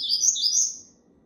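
A young brown Coleiro seedeater songbird gives a quick, bright, high-pitched chirping phrase, close and clear, ending abruptly into near silence.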